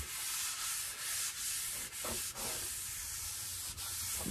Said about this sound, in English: we're now going to wipe it down with some paint thinner to remove any of the residual dust from sanding